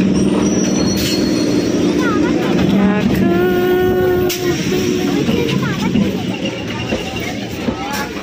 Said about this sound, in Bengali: এই ঢুকছে আমাদের বারুইপুর। এটা আমাদের, আমরা এই ট্রেনটাতে উঠবো।